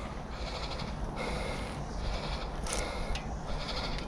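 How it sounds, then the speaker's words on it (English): A large bearded billy goat bleats outdoors, with a few faint, short calls rising over a steady background hiss. "Big old giant billy goat over there with a big old beard."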